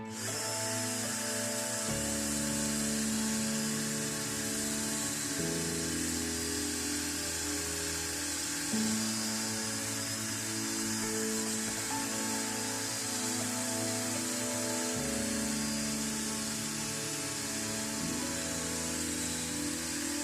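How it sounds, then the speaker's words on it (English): Wire brush spun on a drill cleaning Abarth 595 front brake parts: a loud, steady mechanical whir with a rattling, ratchet-like buzz that shifts pitch in steps as pressure changes, continuous and close. "Obviously I'm using a wire brush on a drill"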